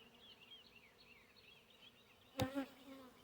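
Soft, wavering buzzing of honey bees drifts close by during a hive inspection, with a brief knock or rustle near the end.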